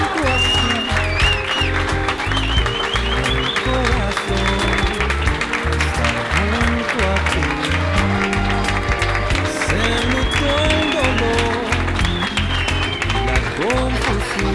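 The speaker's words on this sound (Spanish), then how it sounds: "Les pedimos un fuerte aplauso para recibir al señor y la señora Arellano" Wedding guests applaud as the newlyweds, Mr. and Mrs. Arellano, are received. The clapping is loud and continuous over prominent music playing at the same time.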